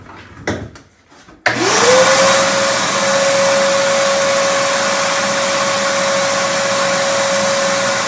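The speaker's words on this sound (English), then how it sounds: "Hit that with the vacuum" A vacuum cleaner starts up abruptly and roars steadily at close range with a rising whine while cleaning out a guitar neck glue joint, after a few soft handling knocks.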